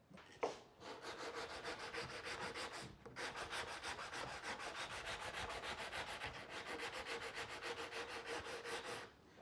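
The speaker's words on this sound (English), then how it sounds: "So let's sand that right there and then try it out." Steady back-and-forth hand sanding on a wooden window piece during a window restoration, a close, rhythmic rasping of even strokes that pauses briefly twice before continuing.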